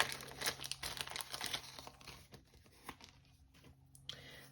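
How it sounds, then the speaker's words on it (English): A new set of stickers is opened close by, with dense plastic crinkling and crackling at first that thins into scattered rustles and small tears. "I have to open a new set of stickers for no spends."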